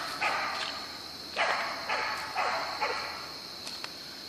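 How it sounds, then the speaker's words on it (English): A herding dog barks in several short bursts while rounding up horses on a ranch, heard at a distance and fairly faint outdoors. "He's got a herding dog."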